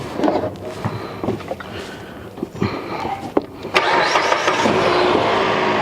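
Engine of a 2014 Mitsubishi RVR cranking and firing after a drive belt replacement, with a few clicks and short cranking bursts before it catches and settles into a steady, close idle.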